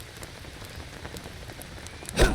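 Steady rain patters across a surface in the jungle survival game Green Hell, a constant soft hiss of drops with a louder splashy burst near the end.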